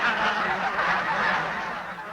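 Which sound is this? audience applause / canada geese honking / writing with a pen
canada geese honking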